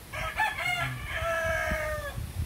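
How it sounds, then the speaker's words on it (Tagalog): Fighting roosters crow in a backyard, with two or three overlapping cock-a-doodle-doo calls at moderate distance and faint clucking and ambient noise beneath. "Tumilaok ang mga manok."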